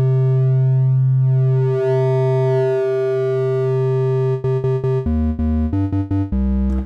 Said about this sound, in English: And you can hear that sounds a bit like a square as well.